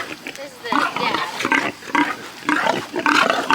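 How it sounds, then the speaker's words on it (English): Several new pigs being picked up for a homestead grunt and squeal in repeated short bursts, close by, with people talking over them. "So we're here picking up new pigs."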